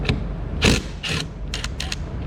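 A ratchet removes screws from a GM steering column, with several close, loud bursts of clicking and cranking in an irregular rhythm.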